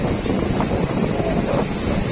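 Wind and sea waves wash over a beach in a steady, rough, full roar with gusty buffeting against the microphone, continuous and fairly loud throughout.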